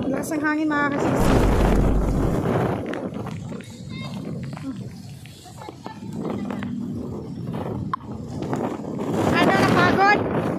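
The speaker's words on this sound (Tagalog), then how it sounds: "Lakas ng hangin mga kasisi." Strong gusting wind during rain outdoors, a broad roaring rush buffeting the microphone with loud low rumble, heard alongside excited voices and chatter throughout.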